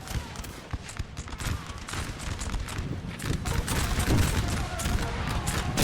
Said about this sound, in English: the artillery is still hitting the hill